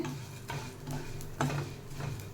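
Fenugreek seeds and urad dal roasting together in a small pan, a soft continuous sizzle with light scraping stirs and faint ticking of seeds against the metal.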